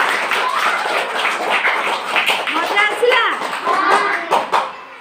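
Children at a school Odia language competition clap together in a brief burst of hand claps, close and loud, mixed with kids chattering and an adult voice talking over them.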